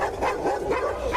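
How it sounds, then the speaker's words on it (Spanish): Dogs bark and yip outdoors during a police raid, several short, close, excited yelps in quick succession. "Siempre los perros por ahí."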